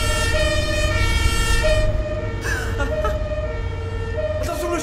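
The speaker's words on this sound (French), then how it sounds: "mets-nous la sirène!" A loud vehicle siren wails with steady harmonic tones across the whole stretch over a dense low road rumble, its pitch shifting partway through, with faint voices underneath.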